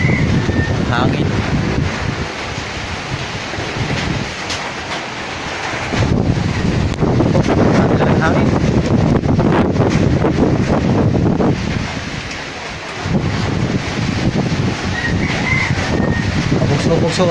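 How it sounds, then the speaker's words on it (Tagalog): Strong, gusting typhoon wind from Typhoon Paeng roars steadily across the microphone, with brief lulls and rumbling low-frequency buffeting, and a voice occasionally heard beneath the noise. "Puso ang hangin, parang signal number 5"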